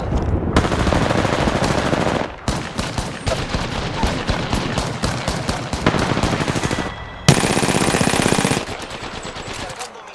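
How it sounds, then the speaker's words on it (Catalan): Rapid enemy gunfire from the Apex Legends video game, loud and nearly continuous automatic bursts with short gaps, with a brief faint voice at one point. "Los enemigos me están disparando."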